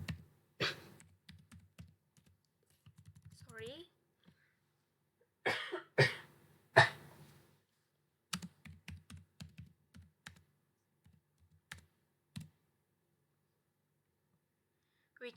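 Keystrokes on a computer keyboard entering a network command, heard as scattered clicks and short bursts with pauses, mixed with a cough and brief speech-like sounds in a quiet room.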